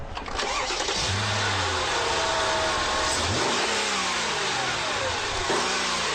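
Carlsson-tuned Mercedes CL V12 engine firing up and revving, a loud, steady roar with repeated rising and falling pulls throughout.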